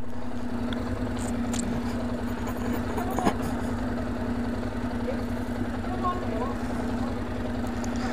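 Motorcycle engine idling on a mix of gasoline and diesel, a steady low pulsing throb that runs without pause, close and fairly loud, with no talk over it.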